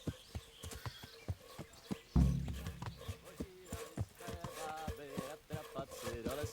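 A horse's hooves clip-clop in a steady, faint walking rhythm in the video game Kingdom Come: Deliverance, with a brief louder thump partway through and soft talk at times.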